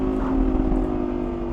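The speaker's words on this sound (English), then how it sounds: "Gorgeous exhaust note." A 2012 Lamborghini Gallardo LP 560-4 Spyder engine drones with a deep, steady exhaust tone and a strong low hum, heard from inside the cabin.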